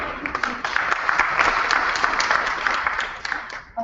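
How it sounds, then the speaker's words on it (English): Audience applauding conference panelists at the close of a session, a dense steady clapping that fills the room for several seconds before tapering off at the end. "let's give our panelists another round of applause"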